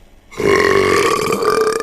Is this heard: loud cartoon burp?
yes